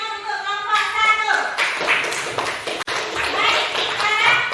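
Classroom applause for a student group in a school lesson, a loud dense burst of many hands clapping close by for several seconds, following a teacher's speaking voice.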